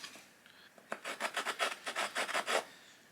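A run of about a dozen quick rasping strokes, a stone blade's edge sawing back and forth to cut a notch in wood, close by and steady in rhythm.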